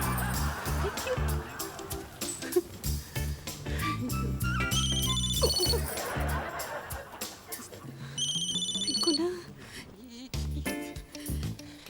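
A mobile phone ringtone chirps in repeated melodic bursts at a busy party, with voices and music going on underneath.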